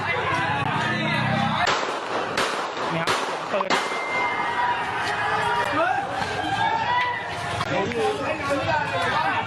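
Sharp, loud gunshots ring out in a burst amid a noisy, chattering crowd in Thailand, with voices shouting throughout.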